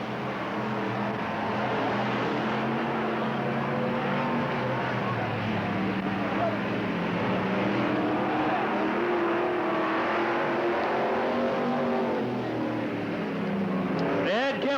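Race cars, including a Napa Auto Parts Nova, roar steadily around the track at Riverside Speedway in Cottage Grove, a continuous loud drone of several engines with a faint announcer voice underneath.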